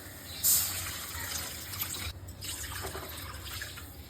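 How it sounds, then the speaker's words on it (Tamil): Tamarind water is poured into a simmering paruppu urundai kuzhambu, a lentil-ball curry: a sharp splash at the start, then a faint, steady trickle of liquid, quiet and close, with no talking. "ஒரு பெரிய லெமன் சைஸ் புளி கரைச்சி வச்சிருக்கேன் அதை ஊற்றிக்கலாம்"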